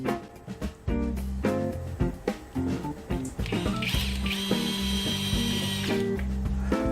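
A power drill drives screws into a wooden wing on a router box-making jig, with short clicking and whirring bursts early, then a steadier sustained tool whine in the latter half, close up.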